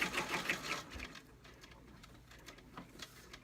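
An embroidery machine stitches an appliqué pumpkin design with rapid mechanical ticking and whirring, loudest at the start and then continuing more softly in intermittent clicks.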